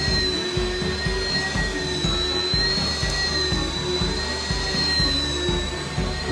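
Steady, loud vacuum cleaner drone on carpet, with a rhythmic thumping pulse running beneath a constant whine, heard alone with no voices.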